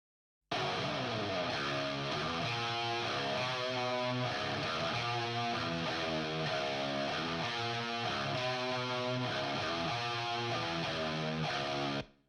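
A strummed, slightly distorted electric guitar plays a steady chord pattern with a little reverb and no EQ, sustained and full from start to a clean stop.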